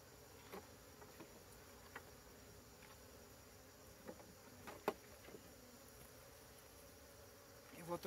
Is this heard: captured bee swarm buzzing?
yes